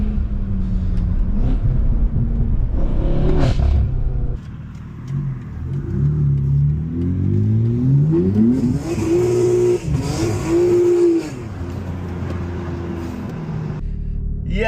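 A BMW G80 M3 tuned to about 820 bhp revs hard while driving through city streets: loud, close engine roar with repeated rising and falling pitch sweeps as it accelerates and shifts, with no voices over it.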